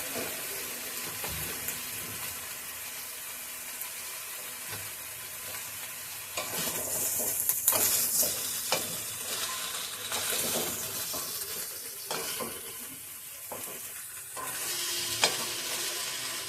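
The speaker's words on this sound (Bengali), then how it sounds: "সবকটা সবজি একটু ভালো করে ভাজবো" Vegetables and bottle gourd stalks fry in oil in a wok, giving a steady close sizzle throughout with occasional scrapes and clinks of stirring that swell louder midway.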